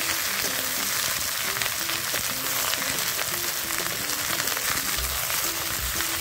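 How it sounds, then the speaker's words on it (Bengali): Cut potatoes and okra fry in oil for a village-style bhindi curry, giving a steady, dense crackling sizzle that holds evenly throughout with no speech over it. "আলু ভেন্ডি টুকরো করে কেটে নিয়েছি, তেলের মধ্যে দিয়ে দেব।"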